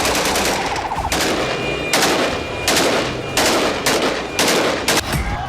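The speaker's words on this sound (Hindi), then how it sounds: "सीरियाई विद्रोही सड़कों पर खुलेआम AK-47 से गोलियां दागकर मना रहे हैं" AK-47 rifles fired in celebration by Syrian rebels on a city street: several loud bursts of rapid automatic gunfire, close and harsh, separated by short gaps, with no talk.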